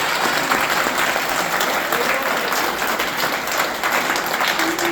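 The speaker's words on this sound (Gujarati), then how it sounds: "એકવાર જોરદાર તાળી બજાવી શકે છે દોસ્તો" Loud, sustained applause from a large audience of several hundred people at a herbal paste demonstration, dense steady clapping filling the whole stretch with a faint crowd murmur and a brief whistle-like tone underneath.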